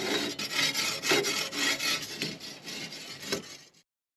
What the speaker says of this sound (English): I also use a steel roofing strap to scrape the inside of the flue.